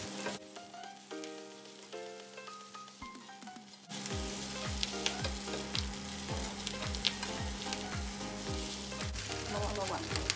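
Singapore fried rice noodles with egg are stir-fried in a wok, giving a loud steady sizzle that kicks in partway, under a repeated series of tossing and scraping strokes.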